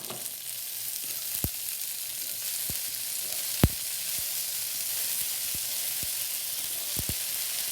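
Sprouted chickpeas sizzle steadily in oil in a pan, a soft continuous frying hiss broken by several sharp clicks and taps of a spoon stirring against the pan.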